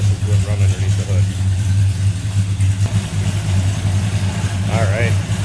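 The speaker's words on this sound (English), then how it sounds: "We can check out the engine bay and see this thing and listen to it run underneath the hood." A 1969 Plymouth GTX with a 440 Super Commando four-barrel V8 runs under its open hood with a steady, low, rumbling idle, while someone talks over it.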